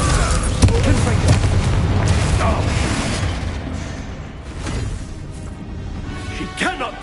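Loud booming fire-spell blasts from Hogwarts Legacy combat, a dense run of crashing explosions and mechanical clatter with spoken voices mixed in throughout.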